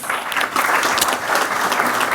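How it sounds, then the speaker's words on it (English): An audience at a book launch breaks into applause, a brief burst of many hands clapping together that stays loud and full for a couple of seconds. "Let's welcome Mr. Sudhir Mishra with a round of applause."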